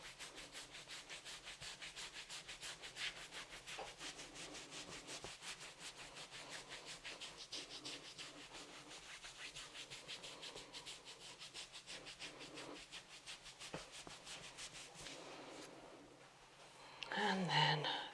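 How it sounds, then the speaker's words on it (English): Soft, rhythmic rubbing of hands over skin during a back massage in a holistic treatment session, close and faint, with repeated strokes and a brief louder rustle near the end. "moving to a rubbing technique if needed"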